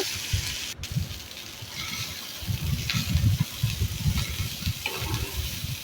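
Idlis warming in a pan with a light sprinkle of salt, giving a continuous crackling sizzle with bursts of frying noise rising and falling over several seconds.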